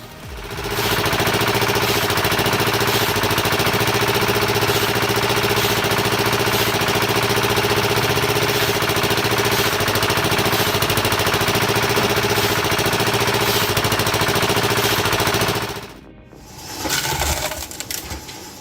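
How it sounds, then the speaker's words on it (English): A homemade wood splitter with an axe-style blade works through thick logs, a loud, steady engine drone holding for most of the time before abruptly cutting out, then a brief quieter rumble. "this DIY wood splitter offers some relief for processing thick logs"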